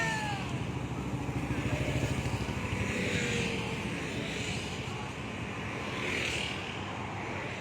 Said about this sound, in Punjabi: ਵੱਡਾ ਕਾਫਲਾ ਜਿਹੜਾ ਹੈਗਾ ਕਿਸਾਨ ਟਰੈਕਟਰਾਂ ਦਾ ਜਿਹੜਾ ਹੈਗਾ ਕਿ ਇਹ ਪਿੱਛੇ ਤੋਂ ਆ ਰਿਹਾ ਹੈਗਾ